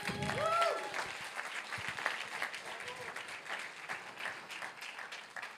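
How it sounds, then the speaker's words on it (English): Faint, distant audience applause at a food-tech startup demo day, soft scattered clapping running under a speaking voice for a few seconds. "big applause."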